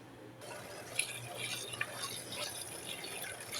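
Rice being rinsed with water in a home kitchen while cooking, giving soft continuous sloshing and trickling with a few small splashes, close and fairly quiet, no talking.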